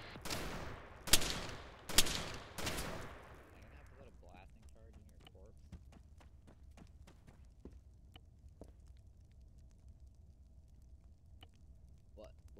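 Gunfire in the military shooter game Arma 3, with a few loud broadband shots in quick succession at the start, then sparse fainter cracks and clicks over a quiet background, with voices talking.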